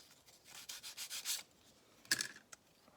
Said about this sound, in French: il reste à ébarber un petit peu avec une simple lime